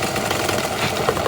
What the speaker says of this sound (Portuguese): O barulho da máquina de costura se escuta desde a entrada da associação.